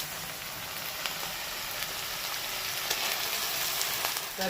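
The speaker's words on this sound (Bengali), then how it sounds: "এবার এটাকে একটু ভেজে নেব।" A paste of onion, ginger, green chili and garlic fries in a pan, giving an even, continuous sizzle with faint crackles and occasional light stirring scrapes, no voices.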